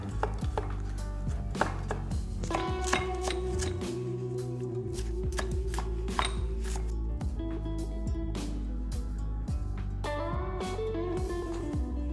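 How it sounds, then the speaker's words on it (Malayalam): Garlic cloves, four of them, being sliced very thin with a knife for steamed idli chicken, giving quick repeated close chopping taps on a board over a steady low background hum, with other kitchen clatter. "നമുക്ക് വളരെ കനം കുറച്ച് അരിഞ്ഞെടുക്കാം"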